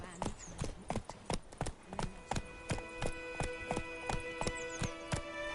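Hoofbeats of the horse Roach galloping in the Witcher 3 video game, a fast, even clip-clop rhythm close by, played alone with no talk.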